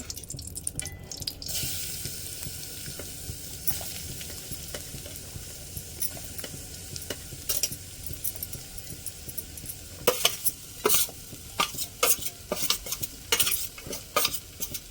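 Grated coconut cooks in hot ghee in a pot on a gas stove, a steady soft sizzle running throughout with scraping stirs and sharp utensil clicks growing more frequent toward the end.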